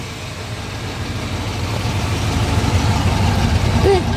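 A 1967 Chevrolet Camaro convertible's engine runs smooth and fairly quiet, a steady low rumble that swells slightly over several seconds.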